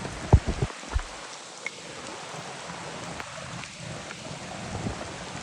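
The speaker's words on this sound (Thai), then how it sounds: "ตอนนี้ฟ้าร้อง ฟ้าร้องหนักมากพี่" Heavy rain pours steadily on surfaces outdoors with a low rumble of thunder, a dense continuous hiss after a few sharp knocks near the start.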